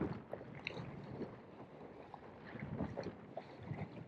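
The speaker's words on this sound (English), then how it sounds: "But the boat is sailing upwind" A Laser sailing dinghy beats upwind, with soft water swishing and lapping against the hull under steady wind noise, fairly quiet and close, with no voices.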